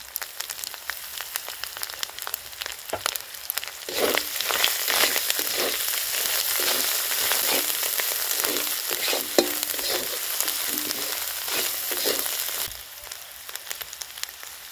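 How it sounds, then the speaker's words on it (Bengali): Ginger, garlic, turmeric and salt fry in a pan, giving a steady, close sizzle that holds for about fifteen seconds, broken by the scrape and knock of stirring. "আদা রসুনটা দিয়ে ভালো করে আমি নেড়ে নেব।"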